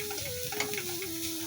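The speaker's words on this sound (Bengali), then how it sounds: "এর মধ্যে আমি একটা ডিম দেবো" Egg frying in a pan with onion, salt and turmeric makes a quiet, continuous sizzle with a faint stir or tap partway through, short and low in volume, with no speech.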